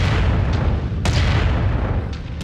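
Mech weapons firing in MechWarrior 5: Mercenaries, with heavy booming blasts over a low rumble and a few sharp impacts standing out, loud and close.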